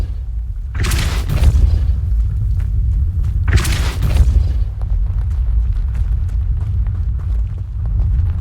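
Depulso spell blast in Hogwarts Legacy: two heavy booming impacts about three seconds apart over a low continuous rumble, no voices.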